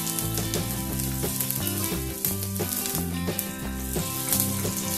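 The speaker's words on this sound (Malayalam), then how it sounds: "കടുക് പൊട്ടി തുടങ്ങുന്നുണ്ട്." Mustard seeds and dried chillies crackle and splutter in hot oil, a tempering for Kerala puli inji ginger curry, heard as a continuous close sizzle with scattered pops under steady background music.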